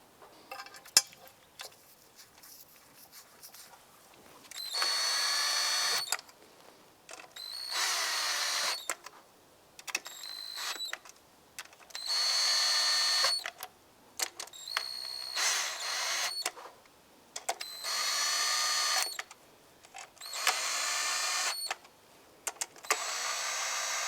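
Nuts and bolts on a cover are snugged down on a 2004-2008 Acura TL with a power tool, repeated loud whirring bursts of a second or two separated by short pauses and small metallic clinks.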